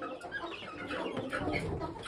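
Hens clucking close by, soft overlapping chicken calls in short bursts against a quiet yard.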